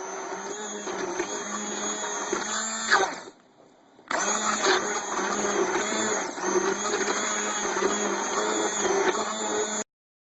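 A blender purées mushroom soup with a steady whirring motor, stops briefly for about a second, then runs on continuously until it cuts off abruptly; no one speaks.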